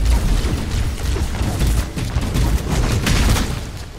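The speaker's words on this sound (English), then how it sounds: "this guy trying to snipe us with a rocket launcher" Heavy video game combat in Halo Combat Evolved rumbles on without pause, with booming rocket launcher blasts and gunfire layered into a loud, continuous barrage.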